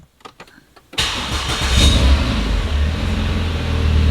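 A Renault Megane with a newly replaced gearbox, clutch and flywheel starts up from silence and settles into a loud, steady engine running close by.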